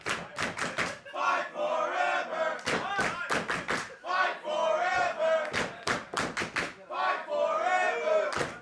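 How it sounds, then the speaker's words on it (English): A wrestling crowd at a Santino Bros. show in Bell Gardens, California, cheers and chants in loud, rhythmic bursts, with short gaps between the rising shouts. "Listen to this crowd."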